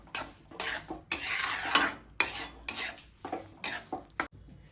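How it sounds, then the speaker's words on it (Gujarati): A spoon scrapes and clatters in a pan as gundarpak mixture with jaggery is stirred, loud, close rasping strokes in irregular bursts with brief pauses between. "હવે આપણે કન્ટિન્યુ હલાવી લઈશું જ્યાં સુધી ગોળ મિક્સ ન થઈ જાય ત્યાં સુધી હલાવી રાખવાનું છે"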